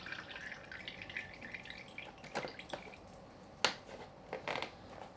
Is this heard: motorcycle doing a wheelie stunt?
no